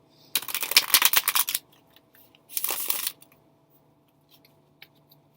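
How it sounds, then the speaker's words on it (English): Tarot cards being shuffled in two bursts, a longer riffling run followed by a shorter one, close and fairly loud with quiet gaps between. "Having a lot of trouble shuffling tonight."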